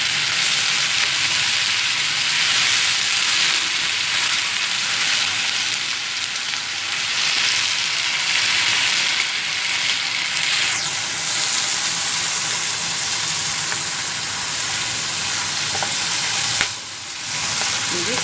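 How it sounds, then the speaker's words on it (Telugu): Malabar spinach leaves fry in a pan with a steady, loud hiss of sizzling oil that runs almost unbroken, dipping briefly near the end. "ఇప్పుడు ఈ గంగవాయల కూర ఆకు ఇందులో వేసుకుందాం."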